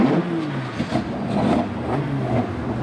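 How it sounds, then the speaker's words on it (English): Race car engines start up and idle at Rockingham before a motorsport event, a low rumbling mix of several motors with slight revving swells, moderately loud and steady. "Gentlemen, start your engines."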